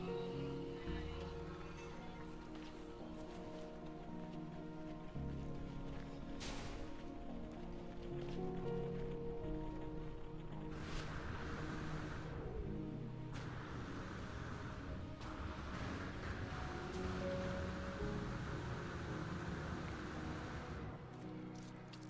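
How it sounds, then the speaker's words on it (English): Superheated rainstorm weather in the No Man's Sky video game, a steady broadband hiss of rain and storm noise running continuously under layered game ambience, with a few brief sharper bursts. "Superheated rainstorm"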